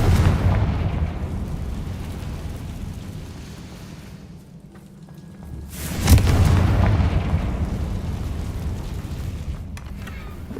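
A Confringo fire spell explodes in the game Hogwarts Legacy, a loud rumbling blast that swells at mid-clip over a continuous roar of game ambience, with no talking.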